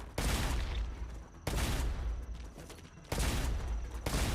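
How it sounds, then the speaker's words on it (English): Long-range artillery in a video game fires three heavy, roaring booms, each a sustained blast lasting over a second, loud and close, with a brief quieter gap between each. "We have long-ranged artillery here."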